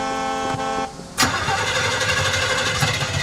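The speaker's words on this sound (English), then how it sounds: "once the music ends, the soundtrack switches to just the engine humming" Vehicle engine effect on a Disneyland motion-base ride: a tonal hum fades out, then a sudden loud roar swells and holds steady, rumbling close and continuous.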